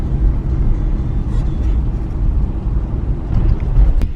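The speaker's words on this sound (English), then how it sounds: "This traffic is backed up all the way down here." Backed-up road traffic rumbles with a low, steady engine drone heard from inside a vehicle, with a brief sharp click near the end.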